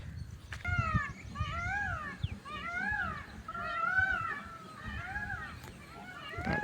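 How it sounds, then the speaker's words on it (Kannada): Peacocks call outdoors, a series of loud, wavering wailing cries repeating over each other at middle distance, with rustling and low handling noise underneath and no clear speech. "ನವಿಲು ಎಲ್ಲ ಕೂಗ್ತಾ ಇದೆ ಇಲ್ಲಿ"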